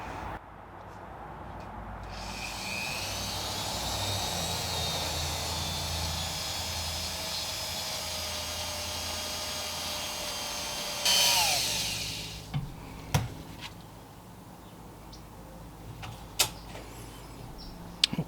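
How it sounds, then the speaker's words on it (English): A rotary tool fitted with a polishing bit whines steadily for about nine seconds as it polishes a laser-engraved coin, then cuts off, followed by a few light taps and clicks. "using a rotary tool with a polishing bit"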